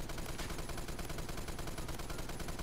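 Sustained automatic fire from an M60 machine gun in the shooter game Phantom Forces, a dense, steady stream of loud rapid shots with no pauses and no talk.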